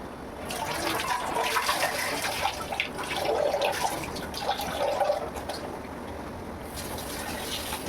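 Rice and lentils are washed by hand in tap water: continuous close splashing, swishing and trickling water for several seconds, with no speech.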